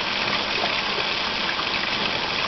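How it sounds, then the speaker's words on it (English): Dirty rinse water pours out of a pot of rice being washed, a steady close gushing splash lasting the whole moment. "And you wash it again, let that water out"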